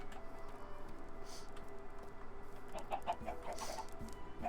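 Chickens in the video game Township Tales cluck steadily in a small flock, with short bright calls layered over a busy, constant background hum and no talking.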